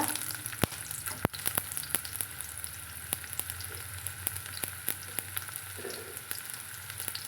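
Small shallots and mustard seeds frying in hot oil for a drumstick white kurma, a steady close sizzle with scattered sharp pops and crackles throughout, no voices.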